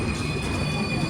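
Intercity SF Express train at Mangalagiri station, steady rolling rumble with a faint high wheel squeal, heard from inside the train, continuous and even.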